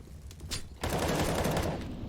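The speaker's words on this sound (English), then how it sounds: "it's Hobbit just rattling through that headshot to get us started" Rattling automatic gunfire in a professional Counter-Strike match on the Vertigo map, a loud continuous burst that starts abruptly after a short lead-in and fills the rest of the moment.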